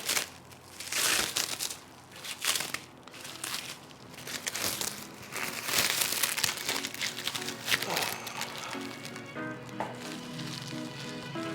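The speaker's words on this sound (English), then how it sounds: "I almost don't want to rip it. I just want to unwrap it like that." Plastic packaging around ESR AX-160 simulator accessories crinkles and crackles close by as it is slowly unwrapped, with a voice speaking intermittently over the rustling.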